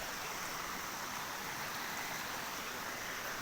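A mountain stream rushes and tumbles like a waterfall, a dense, steady hiss of flowing water filling the scene without a break.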